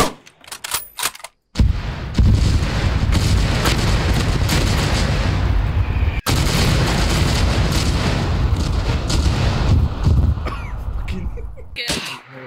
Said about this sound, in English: I see all those shells coming towards me.